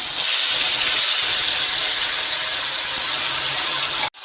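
A ginger, garlic, onion and green chili paste hits hot oil in a pan for a small-fish curry, giving a loud, steady hiss of sizzling that continues unbroken before cutting off abruptly at the end.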